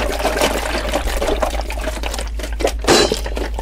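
Vegetable stock pours from a carton in a kitchen, a close, continuous liquid splash and gurgle that swells briefly toward the end.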